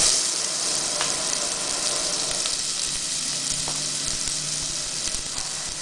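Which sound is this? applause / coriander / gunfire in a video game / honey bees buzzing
coriander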